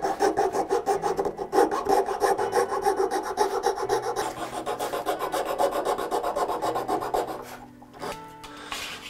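A wooden winding stick is trimmed by hand with steady, rapid rasping strokes of a file or saw, close and loud, slowing and breaking up toward the end with a few lighter scrapes.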